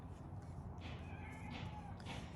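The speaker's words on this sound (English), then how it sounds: "And Jet the Cat's going to make an appearance." A cat meows several times, three drawn-out calls at moderate distance over a steady low background hum.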